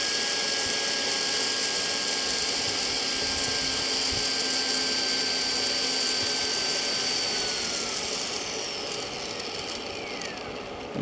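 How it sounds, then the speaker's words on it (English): A brushless DC motor spins with a loud, steady high-pitched whine and hum, then its tones slide gradually downward as it ramps down and slows toward a stop. "the motor ramps down rather than doing a very fast stall"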